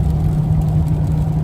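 A Mercedes ML430 V8 cruises on a highway at around 110 km/h and just over 2,000 revs, giving a steady, close, low engine hum with road and cabin noise and no talking.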